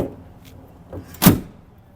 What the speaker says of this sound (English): let's see that bonnet closing again